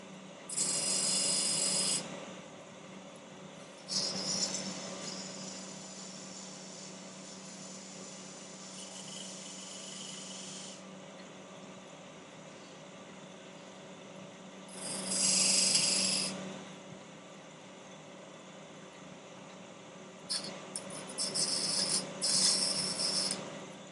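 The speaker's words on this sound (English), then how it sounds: "This is a spindle gouge" A 9/16 spindle gouge cuts wood on a lathe while a sphere is being turned, giving steady rasping bursts that swell and fade several times, loud and close with no talk.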